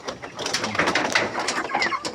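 A flock of ducks chatters and quacks in a busy, overlapping jumble, close by and fairly soft.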